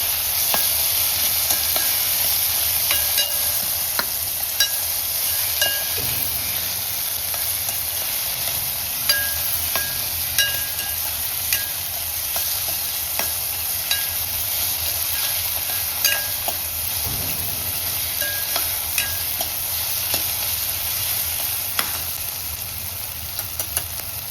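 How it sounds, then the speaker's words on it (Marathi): Chopped tomato is tipped into a hot pan of sautéed onion and turmeric for dal tadka and stirred, giving a steady close sizzle with scraping spoon strokes throughout, no talking. "आता आपण याच्यामध्ये टोमॅटो टाकूया"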